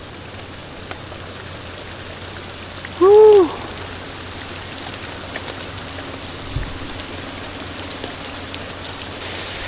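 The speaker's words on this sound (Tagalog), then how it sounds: "Andito na yung ulan." Heavy rain pours steadily in a dense hiss throughout, with one short whoop from a voice partway through.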